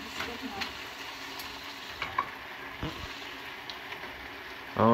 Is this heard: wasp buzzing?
no